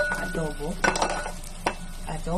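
Chicken and sweet potato fry in a pan with a soft sizzle, broken by a few scraping stirs of a utensil, and a voice talks over the cooking.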